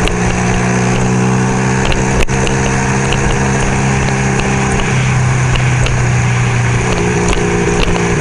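A motorcycle rolls along Stone Avenue toward Tucson, Arizona, its engine a constant close hum mixed with wind rush, shifting slightly in tone partway through, with a brief sharp click near the start.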